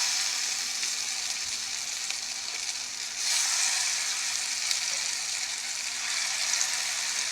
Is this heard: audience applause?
no